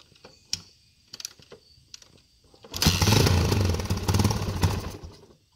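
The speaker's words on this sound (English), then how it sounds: "I'm gonna do a cold start now." A 1989 Yamaha XT350 motorcycle being kick-started cold: a few soft clunks, then the engine catches and runs loud and rough for about three seconds before dying away.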